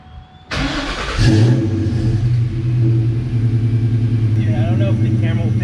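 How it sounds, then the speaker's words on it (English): A Mustang GT V8 with BBK long tube headers and an off-road X-pipe fires up and settles into a loud, deep, rumbling exhaust burble that throbs unevenly, with brief revs, close by. "now I'm going to show you the BBK long tube headers with the OffRoad Xpipe."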